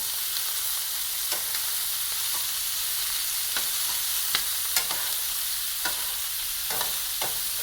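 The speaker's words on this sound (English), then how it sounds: "Once they get seared on one side, you want to turn them to the other side." Shrimps for a shrimp risotto sear in a hot pan with a steady close sizzle, broken by several sharp clicks and scrapes as the pieces are turned one by one.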